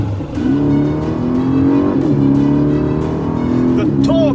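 A 2019 Aston Martin DB11 V8 on the road gives a loud, steady engine drone that rises and falls with throttle changes, and a voice talks over it near the end.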